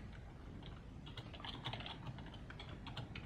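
Typing on a computer keyboard while coding a WebGL React component, with a steady run of soft, close keystroke clicks and no talk.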